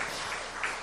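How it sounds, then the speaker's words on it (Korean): A church congregation gives a brief burst of encouraging applause, steady and moderately loud for under a second, without speech. "격려 박수"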